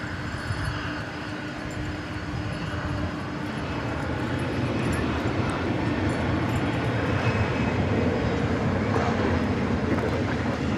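A UPS aircraft at DFW Airport at night is heard as a steady, broad jet roar that builds slightly over its length, with no breaks and no voices.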